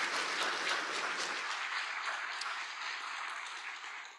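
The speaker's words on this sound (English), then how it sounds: "One more time, a round of applause for all of our speakers today and our families." An audience at a data-collection conference applauds its speakers with sustained, even clapping that slowly tapers off toward the end.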